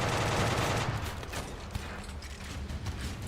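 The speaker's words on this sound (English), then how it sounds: "anti-aircraft guns, while, yes, they are designed for, you know, taking out aircraft, they fire a lot of bullets very quickly" Anti-aircraft gun rapidly firing in RimWorld, a dense clatter of quick mechanical shots over a heavy rumble, loudest at first and then thinning to scattered rattling bursts.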